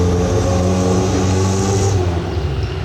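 A parked barchetta sports car with a central exhaust, seen on the street in Monaco during the Grand Prix, gives off a loud, steady engine rumble up close, with no talk over it.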